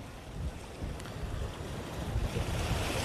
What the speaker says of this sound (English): The wind noise.